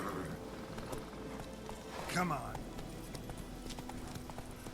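Horse hooves clip-clopping in the video game The Witcher 3, a steady rhythmic patter throughout with a brief whinny in the middle, while someone talks over it.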